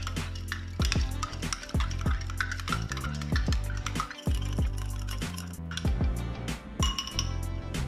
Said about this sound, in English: Stir this well until it is fully incorporated.